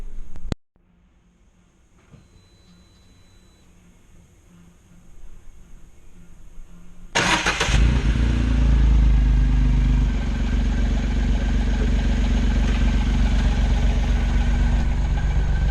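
A truck engine cranks and fires up, then settles into a steady, loud idle with clattery low rumble while the truck is still up on stands after an oil change.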